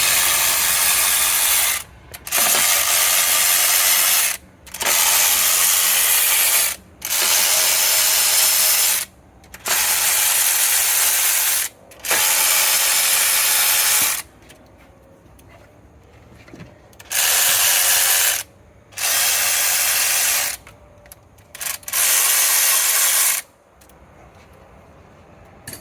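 Ratchet wrench clicking steadily in repeated bursts as bolts come off the engine block valley cover of a 2005 Chevy Silverado, loud and close, with short pauses between runs and no talking.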